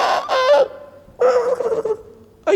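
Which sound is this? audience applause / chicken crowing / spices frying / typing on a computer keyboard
chicken crowing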